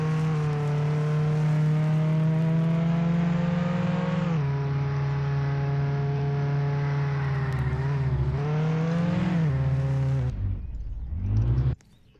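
A car engine drones steadily in the Roblox Jailbreak video game, its pitch dipping and rising with shifts around four and eight seconds, then sputtering and winding down near the end as the car runs out of gas.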